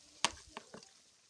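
Fried potatoes go into a sizzling chicken curry. A sharp clatter is followed by two softer knocks over a faint frying hiss.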